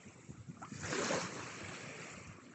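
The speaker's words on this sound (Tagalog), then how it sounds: "dumating na ferry. Ayan po yung ferry." Wind and water wash against the seaside at Discovery Bay as a ferry arrives, a rushing swell of surf-like noise with buffeting gusts on the microphone.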